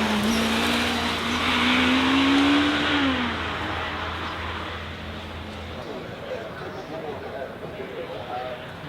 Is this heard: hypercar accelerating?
yes